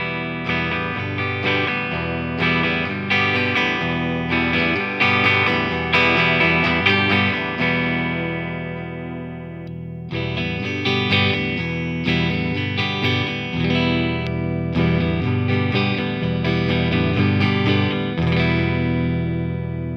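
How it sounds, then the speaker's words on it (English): Heavily distorted Eastwood Univox Hi-Flier electric guitar plays chords and riffs, loud and close, with one brief pause midway and no voices. "it sounds so good with distortion"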